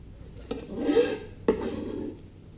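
A kitchen knife striking a cutting board while vegetables are cut into a fine brunoise dice, with two distinct sharp chops over a scraping, rasping texture of blade and board, close and fairly quiet, without any talk.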